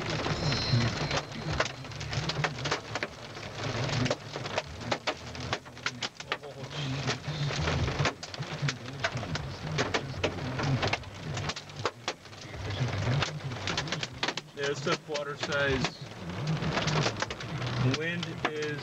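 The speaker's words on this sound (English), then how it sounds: "This hail is just coming down." Heavy hailstorm with rain, dense hailstones drumming and rattling steadily on a vehicle and surrounding surfaces, with occasional rumbles and a person speaking intermittently over the continuous clatter.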